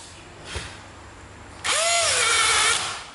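A National cordless impact driver from the Japanese domestic market, run in hammer mode, starting with a faint whir and then a loud, steady rattling hammer drone with a whining pitch sweep, heard close up with no talk.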